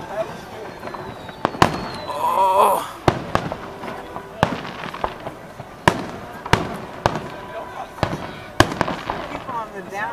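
Fourth of July fireworks bursting in a rapid, irregular string of sharp, loud bangs, with people talking and exclaiming throughout.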